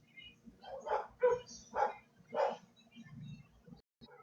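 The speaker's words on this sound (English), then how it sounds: "my dogs are going crazy" Dogs bark in a burst of four or five sharp, moderately distant barks at an uneven rhythm, with quieter yips and whimpers trailing off at the end and no talk.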